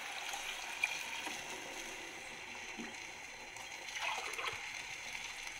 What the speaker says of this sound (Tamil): இது நல்லா வதங்கினதுக்கப்புறம் இப்போ தண்ணி ஊற்றிட வேண்டியதுதாங்க.